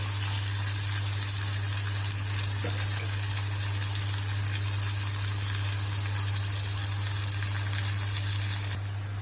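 Raw green tomato pieces simmer under a lid in a pan for a mustard tomato chutney, giving a steady, even hiss and bubbling sizzle with a constant low hum beneath, without any pauses.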